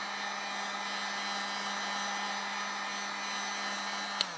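A heat gun blows steadily across a PS3 motherboard being reflowed for the yellow light of death fault, a continuous close whooshing roar with a constant low hum, holding even throughout before a brief click near the end.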